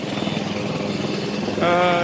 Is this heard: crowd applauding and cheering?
no